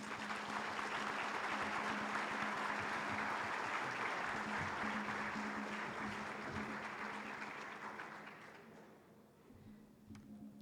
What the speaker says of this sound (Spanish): les pido que la recibamos con un fuerte aplauso